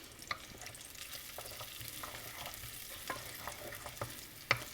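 Bacon fat is scooped out of a sizzling pan, a faint, steady sizzle broken by quiet clicks and scrapes of the utensil and one sharper knock near the end, with no talk.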